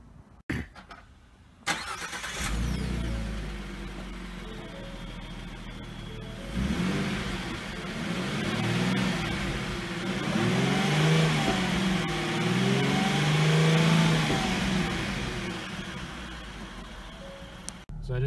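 A 2016 Ford Mustang V6 fitted with a Roush cold air intake cranks and fires up, then settles into a close idle before several throttle blips swell and fade; a voice speaks briefly at the start.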